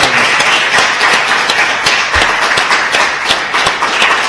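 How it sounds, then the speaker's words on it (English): An audience at a GeekFest event claps steadily, a dense, close patter of many hands that holds evenly throughout without voices. "I think this is really the point to have applause to what this man has achieved"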